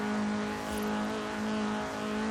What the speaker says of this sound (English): the way that it revs, I can almost compare it to a VTEC